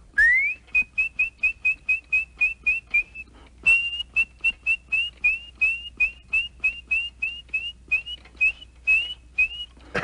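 A bright, electronic-sounding whistle from an animatronic robin in a Walt Disney World Explorer video game repeats a quick two-note chirp in steady rhythm, with a short pause partway through before the pattern resumes. Close and clear.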